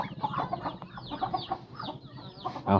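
Chickens cluck in quick, overlapping bursts close by, a busy farmyard chatter of several birds with no talking.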